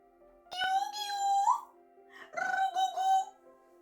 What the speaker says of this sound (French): je viens d'avoir la visite de mon chat